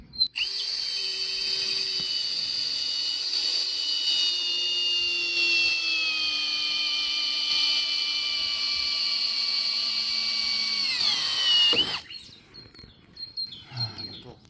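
A power drill drives screws into roof timber while a new roof is being built: a steady, loud, high-pitched motor whine held for about eleven seconds that drops in pitch as it slows and stops, then faint handling noises and a brief voice.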